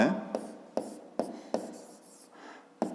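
Pen writing on paper during a fifth-grade geometry exercise, several short quick strokes in a steady rhythm, close and fairly quiet, with no talking.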